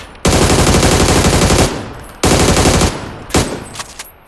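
Two long, loud bursts of rapid automatic gunfire from a PUBG firefight, each lasting over a second, followed by a few shorter single shots tapering off.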